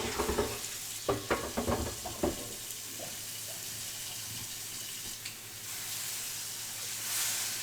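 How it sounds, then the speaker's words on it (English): Water hits a hot cast iron pan and sizzles. A few clanks and splashes come first, then a steady hissing that holds on and fades slightly, close and alone. "if you're going to pour water into a hot cast iron pan, use hot water"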